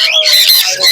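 Budgerigars at the Krishnanagar bird market squawk in a loud, shrill, continuous chatter from close by, filling the whole second.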